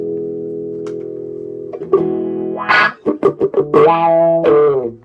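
An electric guitar through an AMT WH-1 wah pedal on a clean setting rings out a sustained chord, then plays a series of quick plucked notes with a sweeping, vocal-like wah tone.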